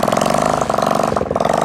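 A motorcycle engine idles up close with a steady, rapid thumping beat that dips briefly and then resumes at an even, loud level, with no voices.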